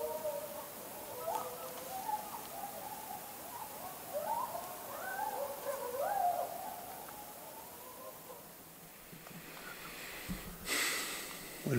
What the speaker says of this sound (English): Now barred owl.